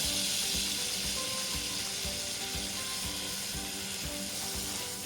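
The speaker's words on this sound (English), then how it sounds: "I'm adding the butter now guys" Butter melting in a hot pan for shrimp Alfredo sauce gives a steady, close sizzle, with faint rhythmic clicking underneath and no voices.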